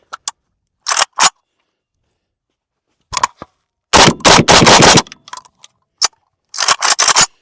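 A PSA AK101 rifle fires in loud, sharp bursts: a few single shots, a short rapid string in the middle, then another quick burst near the end, with quiet gaps between.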